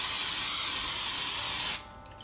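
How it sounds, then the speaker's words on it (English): A cooking spray can sprays into an 8x8 baking pan in one continuous close hiss for under two seconds, then stops, followed by a faint small tap. "I'm just gonna spray it down"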